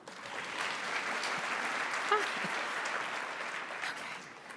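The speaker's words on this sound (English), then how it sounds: "Please give yourselves a round of applause." Sustained applause from a room full of people at a nursing academy induction ceremony, steady and dense clapping for several seconds before tapering slightly at the end.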